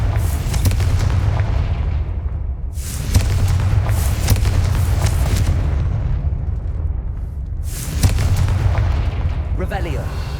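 Confringo spells explode in Hogwarts Legacy, with repeated booming blasts over a heavy low rumble and a few louder bursts spaced several seconds apart.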